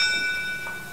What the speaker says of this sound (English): The bell has rung.